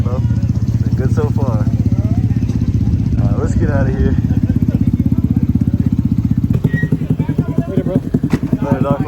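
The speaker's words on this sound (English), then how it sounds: "Starting up the Navis." Honda Navi mini motorcycles idling and pulling away, several small engines putting out a fast, even putter that stays close and loud for the whole stretch, with people's voices heard over it.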